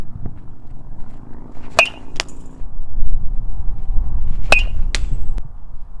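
During a hitting drill, a baseball bat strikes a ball off a tee in sharp metallic cracks. Two quick hits come close together, and after a pause another pair follows over a low background rumble.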